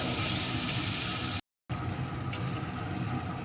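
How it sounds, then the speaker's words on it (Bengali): Potato pieces frying in hot oil with spices in a pan, a steady close hiss and crackle interrupted by a brief silent gap, with no talking. "টুকরো করে কেটে রাখা আলুটা আলুটাকে একটু ভেজে নেব"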